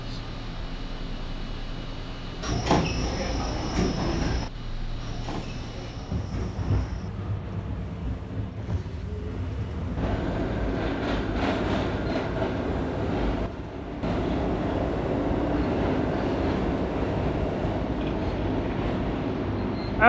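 An R32 F subway train shuts its doors with a short chime and thud, then departs, its motors and wheels rising into a steady rumble with rhythmic rail clatter, loud and close from inside the car.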